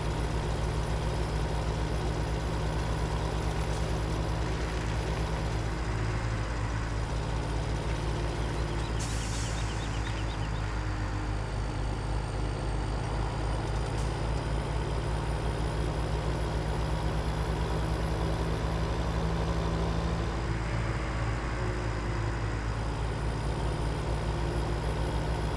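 Truck engine idling in Farming Simulator 17, a steady low rumbling drone that runs unbroken throughout, with a couple of faint clicks and a brief bright swish over it.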